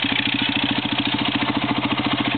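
Engines of a tractor and an old white truck racing around a track, heard as a steady, pulsing mid-range engine rumble with a regular throbbing rhythm throughout, fairly close and continuous.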